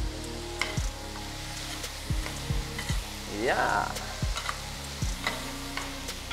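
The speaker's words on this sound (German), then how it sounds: "Das lassen wir jetzt mal kurz ein bisschen anbraten." Minced meat, onions and beans sizzle steadily in a hot pan, with repeated sharp scraping knocks as a utensil stirs, alongside a brief spoken word.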